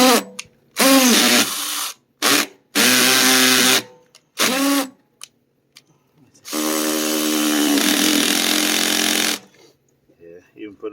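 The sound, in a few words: power drill driving screws into concrete septic tank riser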